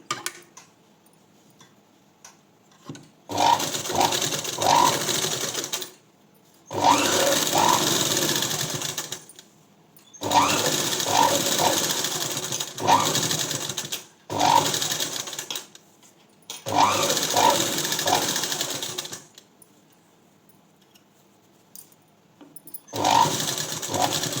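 Domestic sewing machine running in bursts while top stitching folded lining around a garment neckline, steady rapid whirring runs of several seconds separated by short quiet pauses, close and alone.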